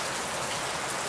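Heavy typhoon rain from Typhoon Karding in the Philippines pours outside a house at 11 p.m. as a dense, steady roar with no voices.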